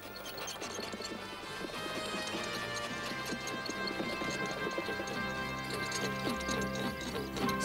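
A donkey pulls a cart in an animated film, and its hooves clip-clop in a fast, steady beat. Music and cart rattle play under the hooves throughout.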